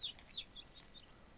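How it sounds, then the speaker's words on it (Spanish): Chickens and chicks in the farming video game Ranch Simulator give faint, high peeping chirps, several brief calls in a row over a quiet background. "estoy oyendo más pollitos"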